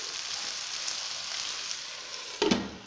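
Rice sizzling and frying in oil in a covered pot, a steady close hiss throughout, with a brief louder clatter of stirring or the lid near the end.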